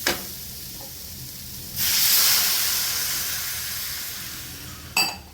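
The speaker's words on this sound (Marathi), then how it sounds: "तर यामध्ये मी पाणी घालून घेणार आहे" Water poured into a hot pan of sautéed vegetables for Maggi noodles bursts into a loud hiss and steam roar that slowly fades, ending with a brief clatter, close up and without speech.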